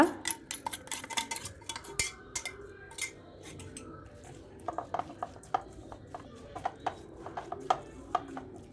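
A utensil stirs onions and crushed chilies in a cooking pan for a chicken dish, giving quiet, irregular scraping and tapping clicks with faint background murmur.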